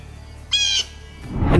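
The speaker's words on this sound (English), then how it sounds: "blue jays certainly do make a lot of noise" A blue jay lets out one brief, harsh, nasal call lasting under a second, clear and fairly close, followed by a burst of rustling noise.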